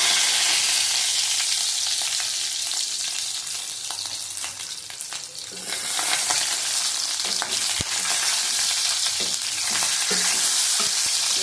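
Catla fish roe being fried and stirred in a kadai, a steady close sizzle with scraping stirs and small spatula knocks running throughout, no voices.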